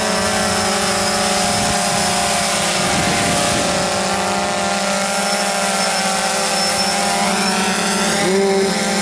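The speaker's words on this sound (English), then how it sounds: "there's a little bit of like a high-pitched whine from these motors. It almost sounds like a jet engine or turbine" Small electric drone motors give off a steady, high-pitched whine, like a tiny turbine, running continuously and close by.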